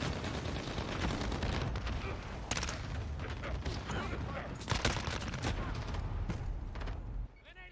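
Dense, continuous automatic gunfire in Modern Warfare with the CX-9 submachine gun, a loud unbroken rattle of rapid shots with a few heavier bursts, ending abruptly near the close.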